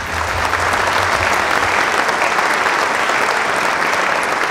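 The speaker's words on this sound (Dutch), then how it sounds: "graag een hartelijk applaus voor Jan Kees de Jager." Sustained, loud applause from a conference audience at a spring congress of small and medium businesses in Wijchen, greeting a finance minister; steady clapping fills the whole stretch with no talk over it.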